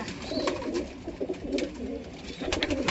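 Pigeon cooing in a loft, soft low throaty coos repeating in short bursts close by, with faint background noise.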